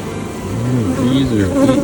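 Dense, steady buzzing of many agitated honey bees close by at an open hive, a continuous droning hum with no voices.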